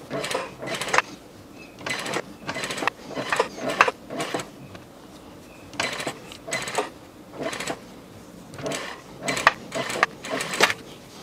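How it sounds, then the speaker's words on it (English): A sewing machine stitches down the back pleats of a shirt in short bursts of rapid mechanical whirring, each lasting under a second, separated by pauses of handling and soft background sounds. "And now to sew down the back pleats."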